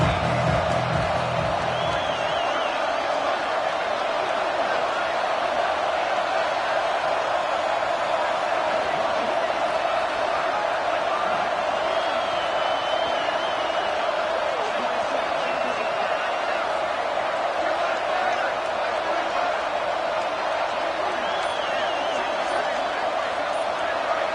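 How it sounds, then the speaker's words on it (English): Crowd at a football game roars in a steady, dense wash of cheering that runs throughout, with a commentator's voice talking over it. "Third down, and the crowd really getting into it."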